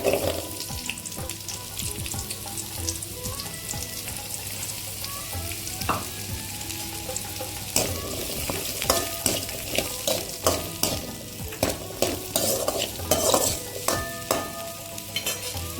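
Onions fry in oil in a pan for radish chutney with a continuous close sizzle. Stirring scrapes grow more frequent and rhythmic toward the end, and there is no talking.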